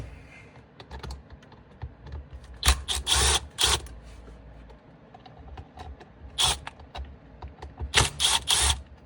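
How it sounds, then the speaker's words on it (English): Screws removed from a vehicle's interior trim panel with a tool, giving close mechanical whirring bursts and small clicks separated by quiet gaps, with no talking. "is take these screws out."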